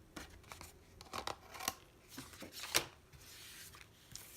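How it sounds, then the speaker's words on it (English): Scissors trim decorative paper for a folded card with a close, quiet series of irregular snips and the soft rustle of paper being handled. "Trim off this little top part here"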